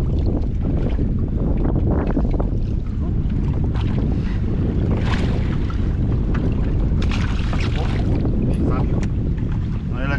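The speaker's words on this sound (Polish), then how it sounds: "pogoda nas nie rozpieszcza, jest wiatr naprawdę straszny" Strong wind gusts across a reservoir lake and pounds the microphone on a fishing boat while spinning for zander, a loud steady rumble with occasional clatter and brief bits of voice.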